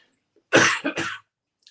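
A single close, harsh cough breaks into two or three quick bursts, followed by silence.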